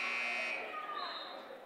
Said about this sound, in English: Buzzer here as Betts will check in for Barkley.